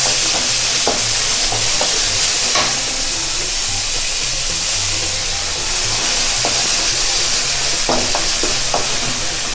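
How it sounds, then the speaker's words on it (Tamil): Onions sauté with mustard seeds and dal in hot oil for a Tamil home-style raw plantain podimas, giving a loud, continuous sizzle with occasional sharp pops and spatula scrapes. "பொரிய விட்டோன்னே நறுக்கி வச்சுருந்த வெங்காயத்தை போட்டு நல்லா வதக்கணும்."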